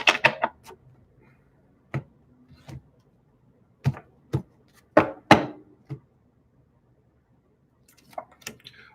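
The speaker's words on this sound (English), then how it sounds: "2 more shuffles." A deck of tarot cards shuffled during a reading, heard as a few separate sharp card slaps and riffles spaced out by quiet gaps, close-up and without speech.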